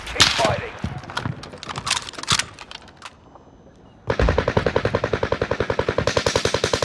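Gunfire in a video game shootout: scattered sharp shots and short bursts under excited talk, a brief lull, then a long rapid automatic burst of evenly spaced, loud, close reports.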